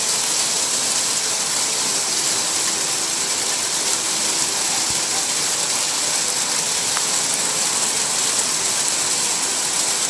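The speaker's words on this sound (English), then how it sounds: "Oh yeah, that's hail." Hail pelts down steadily on a mountain trail near a shelter, a dense, continuous hiss and patter with faint clicking impacts, close and even throughout with no talking.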